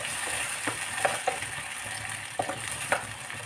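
Chilli paneer sauce with tomato ketchup and vinegar sizzles softly in a pan as it is mixed, with several light spoon scrapes and taps over the steady frying hiss.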